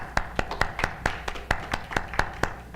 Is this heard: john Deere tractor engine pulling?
no